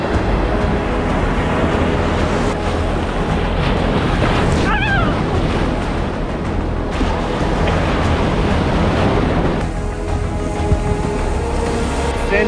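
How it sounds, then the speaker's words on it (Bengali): Large ocean waves crash continuously onto the west beach of Saint Martin's Island, a loud, unbroken roar of surf with gusty wind buffeting the microphone. "বিশাল বিশাল ঢেউ আছড়ে পড়ছে।"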